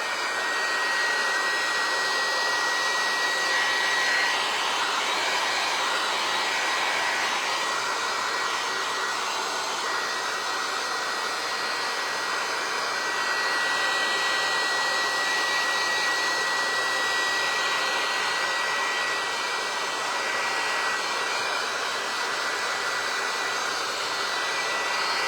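A dryer blows steadily to dry a decoupage texture coat on a snowy winter church scene, giving a constant, close, whooshing hum with no pauses.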